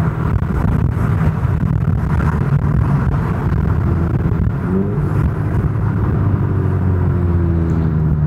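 A modified Alfa Romeo Giulietta Veloce with a remapped ECU and upgraded exhaust drives on the road, a loud continuous engine rumble with a gear change and rising pitch sweeps toward the end.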